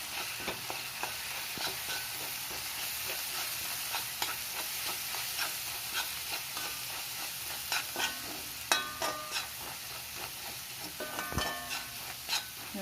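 Prawns with chili powder stirred in a hot pan, a steady sizzle broken by repeated scraping strokes of the spoon, near and fairly loud, with no talking.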